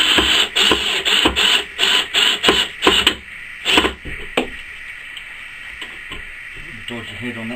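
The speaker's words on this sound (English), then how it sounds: "I'm putting some screws into it" Screws are driven into a scaffold board for a wine rack, a power driver whirring in a run of rapid pulsing bursts, then a few slower grinding spurts before tapering into quieter handling noise.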